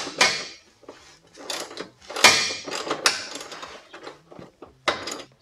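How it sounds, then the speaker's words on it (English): Metallic scraping and clunking from a bolt being pulled from a Jeep Cherokee rear trailing link, close up, in several separate bursts with short pauses between them. "So now I'm just going to pull that bolt out and put the next spacer in."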